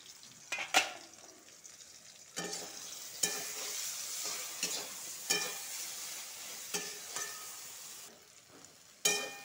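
Food frying in a pan with a lid during home cooking: a steady sizzle runs throughout, broken by repeated louder scraping bursts of stirring, close and clear, with no talking.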